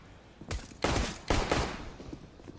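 Gunfire in Counter-Strike at the ELEAGUE Major 2018: three sharp bursts of rifle shots, loud and close, each followed by a short ringing tail.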